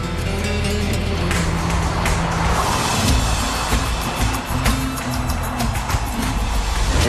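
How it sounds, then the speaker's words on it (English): A Porsche sports car drives hard at high speed, its engine a loud sustained roar with shifting pitch and rushing wind noise, heard up close without talk. "Two super fast laps show Ghosn how the Porsche performs."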